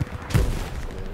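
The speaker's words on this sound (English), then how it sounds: "I'm throwing some normal grenades" Video game combat with grenades being thrown: a single muffled boom lands mid-stretch over a constant rumble of distant gunfire, short and fairly loud.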